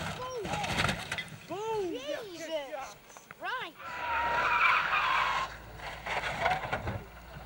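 A rally car skids off the road with screeching tire squeal and engine noise, followed by a rough, sustained scraping rumble.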